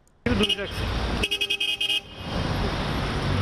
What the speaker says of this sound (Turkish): Geçmeye çalışan yayalara korna çaldılar.